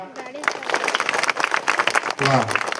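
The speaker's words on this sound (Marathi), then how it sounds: "टाळी टाळीच्या गजरात एकदा" Audience applause breaks out at a Janathe family gathering in 2025 as the ceremonial lamp is lit, a dense patter of clapping running beneath a speaking voice throughout.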